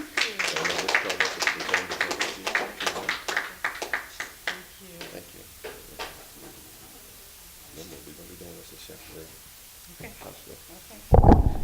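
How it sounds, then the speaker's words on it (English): Handclaps from a youth leadership program audience, fairly strong at first and then thinning into scattered, fading claps, with a voice speaking over the quieter tail and a sudden loud burst at the very end. "Let's give her another round of applause."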